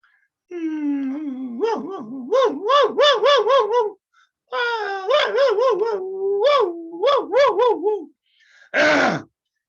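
A human voice imitates a puppy's whimpering yelp as a yoga throat exercise, with quavering whines broken into rapid pulsing yelps in two long bursts, close and clear, then a short breathy exhale.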